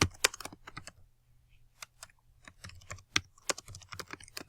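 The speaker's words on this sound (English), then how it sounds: "type in your keyword searches here" Keyword searches typed on a computer keyboard, quick irregular runs of crisp key clicks at close range, with brief pauses between bursts.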